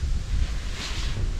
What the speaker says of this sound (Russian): И ветер еще сильнее подул.